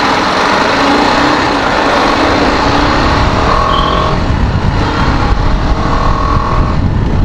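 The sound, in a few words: TVS Apache RR 310 motorcycle engine running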